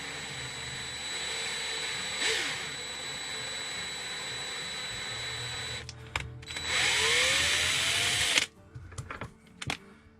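A tap is run by hand to cut threads in a plastic part. The sound is a steady, close whir and grind, then a brief pause and a louder stretch, before it breaks into a few scattered knocks and handling noises.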